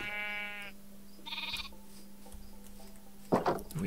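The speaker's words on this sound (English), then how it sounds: "Wait, there's a new sheep." Sheep bleat in the Minecraft video game, a harmonic bleat at the start and a second shorter one soon after, with a brief rustle near the end.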